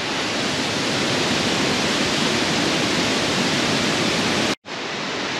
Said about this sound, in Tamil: ஸோ டன்னல்லேருந்து தண்ணி நல்லா செம்ம ஸ்பீடில் வடியுது.